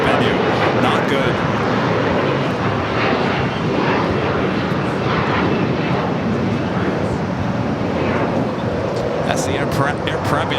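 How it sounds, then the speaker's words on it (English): An Air Premia Dreamliner jet roars steadily during a south side takeoff at Los Angeles airport, a loud continuous engine rumble with wind noise over it and a voice talking. "That's the Air Premia Dreamliner heading down for a south side takeoff"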